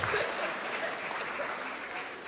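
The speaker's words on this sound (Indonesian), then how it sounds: "tepuk tangan dulu untuk kita semua" Congregation clapping hands together at a Sunday intergenerational church service, a dense steady wash of applause filling the room for a couple of seconds with no one speaking.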